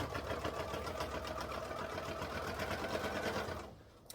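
A sewing machine stitches the lining of a DIY purse, a fast steady mechanical chatter running close and loud before stopping abruptly near the end.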